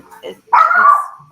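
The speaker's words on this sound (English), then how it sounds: "so sorry about the barking." A dog lets out a loud, drawn-out bark or yelp close by, with brief speech just before it.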